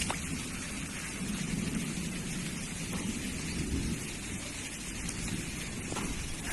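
Heavy storm rain pours steadily over a flooded vegetable garden, a dense constant hiss with low thunder rumbling beneath it throughout.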